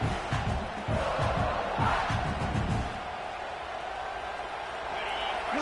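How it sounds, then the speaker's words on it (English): Dense college football stadium crowd roar at Tennessee vs South Carolina, with rising surges of cheering and yelling, loud and continuous throughout. "Listen to the crowd energy here in the early going."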